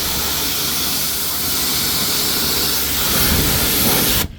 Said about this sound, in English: the pressure washer's been taking it off surprisingly well